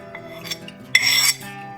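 Tomato, garam masala and chili powder stirred in a pan for butter chicken, light metallic scrapes and taps of a spoon on the pan, then one brief louder clatter, close and short, no speech.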